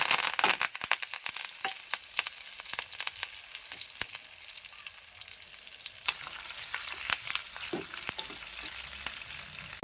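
Mustard seeds and urad dal fry in hot oil, a dense crackling sizzle full of sharp pops and spatters, close and steady throughout with no talking.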